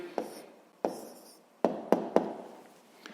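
Pen or pencil writing an answer by hand on paper for a sixth-grade maths exercise, heard as a few short, separate scratchy strokes with brief pauses between them, close and fairly quiet, with no talking.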